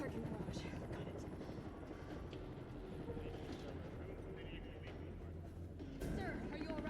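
A helicopter hovers in the Resident Evil 3 Remake video game, its steady rotor chop throbbing loud and continuous under a voice, with a sharp jolt near the end.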